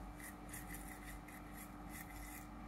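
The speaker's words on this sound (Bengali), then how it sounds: "ভালো করে ঘষো যাতে ভালো একদম ক্লিন হয়ে যায়" A child brushes teeth with a toothbrush, making a steady, close scrubbing rasp with a soft back-and-forth rhythm throughout, quiet and with no talk.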